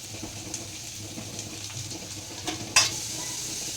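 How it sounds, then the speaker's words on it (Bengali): Chopped onion and capsicum fry in a pan for a flattened-rice pulao, giving a quiet, even sizzle with light stirring taps and one sharper clatter near the end. No one speaks. "এখন দিয়ে দিতে হবে পেঁয়াজটা, কুচিয়ে রেখেছিলাম সেই পেঁয়াজটা দিব। আর ক্যাপসিকাম দিয়ে দিবে।"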